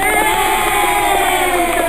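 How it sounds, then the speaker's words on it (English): A dense, loud crowd cheers and whoops all the way through, a short continuous burst of audience enthusiasm during a live morning news show. "Claps for her, too."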